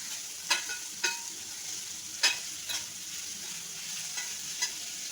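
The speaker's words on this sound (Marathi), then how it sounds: "हे आता चांगलं मिक्स करून घ्यायचं फास्ट गॅसवरतीच मिक्स करायचं" Spring onions stir-fried on high heat for paneer chilli, a steady sizzle broken by several sharp scrapes and clacks of a spoon against the pan at irregular intervals.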